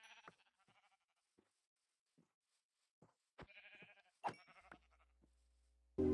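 Sheep in Minecraft bleating in short scattered calls, some quiet and some louder and closer, separated by silent gaps, with a sudden loud thump at the very end.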